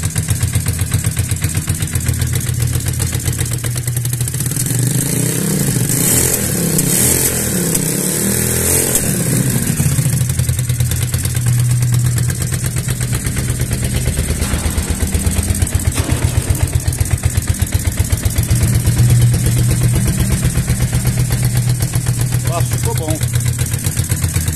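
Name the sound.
Yamaha Virago 535 motorcycle engine with homemade glass-wool muffler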